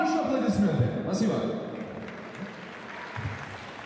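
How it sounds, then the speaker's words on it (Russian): A crowd at an iftar gathering during a prize draw breaks into applause that starts under a speaking voice and then thins out gradually. "И ваши аплодисменты."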